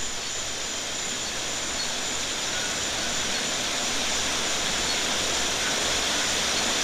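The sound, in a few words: rushing water of a distant river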